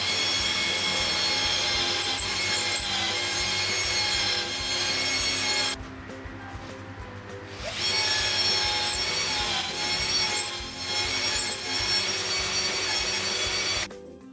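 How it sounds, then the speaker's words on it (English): A power drill bores four holes into a wall to mount a box, giving a long, steady grinding whine that drops away briefly partway through and then resumes, with no voices. "I have already made 4 markings here so that I can drill 4 holes to screw this box"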